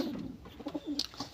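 Pigeons cooing nearby in a brief, soft burst of low, throaty coos, with a small higher chirp near the end.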